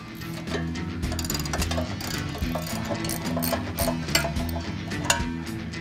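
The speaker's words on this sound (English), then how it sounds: "We're going to disconnect our flow tubes from our H-pipe." A ratchet wrench works on the exhaust of a 1999-2004 Mustang GT, loosening the flow tubes from the H-pipe with steady, continuous clicking ratchet strokes close by and fairly loud.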